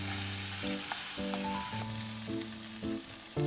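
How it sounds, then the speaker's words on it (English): Beef and Chinese broccoli stir-frying in a wok, a steady close sizzle with intermittent stirring scrapes, heard alone while music tones play in the background. "Give everything a quick stir, then add the sauce."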